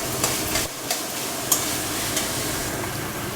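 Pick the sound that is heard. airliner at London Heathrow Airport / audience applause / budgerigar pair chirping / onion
onion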